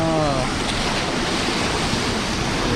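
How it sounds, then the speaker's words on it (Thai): Strong floodwater rushes by in a loud, continuous roar, close and unbroken for the whole stretch, with a brief voice at the very start. "แต่น้ำแรงมาก ขึืนอย่างกับทะเล"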